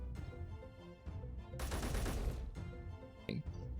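Gunfire in Space Engineers aimed at a target dummy: a dense burst of rapid shots lasting about a second, loud and close, surrounded by low mechanical background hum and a brief sharp impact near the end.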